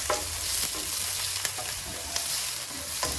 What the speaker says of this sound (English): we are just now frying up the onion and the scallion